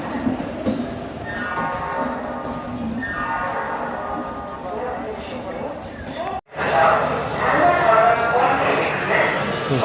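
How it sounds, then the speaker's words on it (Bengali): A train pulls into a railway station, its rumble and horn-like tones carrying steadily through the scene while people talk nearby. "দেখতে পাচ্ছ স্টেশনের কিছু মুহূর্ত যে একটি ট্রেন আসছে"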